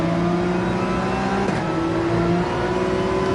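Porsche 911 race car engine in Gran Turismo 7, a steady droning hum held at constant revs with a brief bump midway, close and continuous with no talk.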